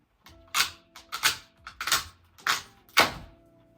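A few sharp snips and clicks as a small cable inside Samsung Q910D soundbar packaging is cut, five or six crisp close-up cuts with brief pauses between them.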